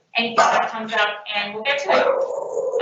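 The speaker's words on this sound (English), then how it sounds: "So you might hear some barking on occasion." A small puppy barks and yips now and then in a room during a town hall meeting, the short high yelps mixed under continuous nearby talk.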